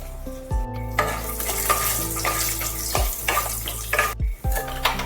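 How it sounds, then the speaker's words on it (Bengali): Raw peanuts frying in oil with a little salt, a bright crackling sizzle close by, punctuated by several clattering scrapes of a spoon stirring the pan; no one speaks. "এবার এই তেলের মধ্যে দিয়ে দিলাম কিছু কাঁচা বাদাম"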